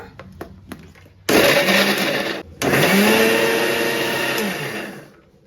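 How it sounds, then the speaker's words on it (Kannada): A kitchen mixer grinder whirs loudly in two bursts after a few light clicks, blending ingredients into a fine paste, the motor running steadily before winding down at the end. "ಇದಿಷ್ಟು ಮಿಕ್ಸಿ ಮಾಡ್ಕೊಳ್ಳೋಣ, ಚೆನ್ನಾಗಿ ಫೈನ್ ಪೇಸ್ಟ್ ಮಾಡ್ಕೊಳ್ಳೋಣ"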